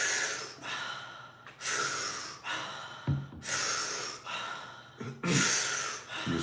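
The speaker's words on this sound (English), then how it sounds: "Keep breathing. Keep breathing." Deep, forceful breaths in a guided breathing exercise, about five long inhale-exhale cycles in a steady rhythm, close and loud with no talk over them.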